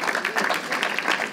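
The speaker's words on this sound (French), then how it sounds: "on peut applaudir le Seigneur" A church congregation applauds during a sermon, a short burst of steady, fairly close clapping that fills the room without pause.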